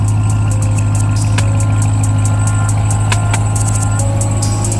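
A 2022 Ram TRX pickup truck engine idling loudly and steadily up close, a constant deep rumble with rhythmic ticking or beeping over it.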